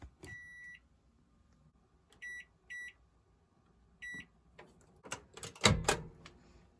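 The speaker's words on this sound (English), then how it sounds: "This is a 700 watt microwave, so your time may vary." A 700-watt microwave oven in a camper van beeps in short, bright tonal bursts three times, then a few louder clunks and rattles follow nearby.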